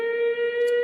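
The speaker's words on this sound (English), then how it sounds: "Sound the siren" A steady siren tone holds for under a second, loud and continuous with a faint higher whine near the end, sounding alone as a studio sound effect on a live show.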